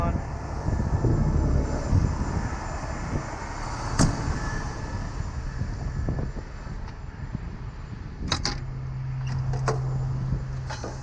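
A tow truck's diesel engine idling steadily with the power take-off engaged, a close continuous rumble with a faint steady whine near the end, some clicks and knocks over it.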